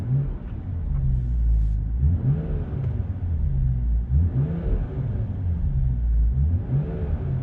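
A BMW M240i on its stock exhaust in Sport Plus mode, revved repeatedly from idle. Several rising and falling engine swells sit over a steady low drone, heard up close with no voices.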